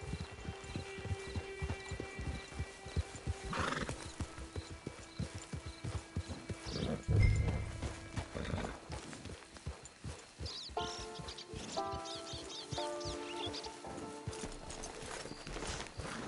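Horse hooves clip-clopping steadily in Red Dead Redemption 2, with a whinny partway through and a louder snort, over a low game soundscape.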